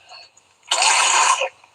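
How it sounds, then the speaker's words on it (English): A young child gives one harsh, wet cough close to the mic after taking medicine, preceded by a faint breathy sound. "he coughed it all up."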